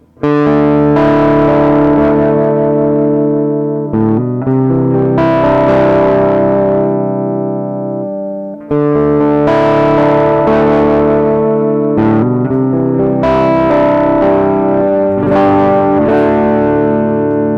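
A heavily distorted electric guitar through a Donner Dark Mouse mini distortion pedal rings out in sustained chords, thick and saturated, with brief gaps between phrases and a wash of echo.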